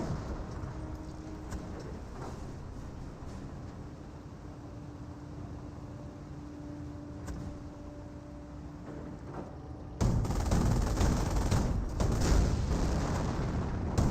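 Company of Heroes 1 battle in full swing: a dense, continuous roar of combat with rumbling blasts, swelling into a louder, harsher wall of explosions and firing after about ten seconds. No voices.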